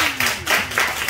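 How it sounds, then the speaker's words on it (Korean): Church congregation clapping in applause, a short burst of many hands with slight swells, moderately loud in a room. "수고했다고 박수 한번"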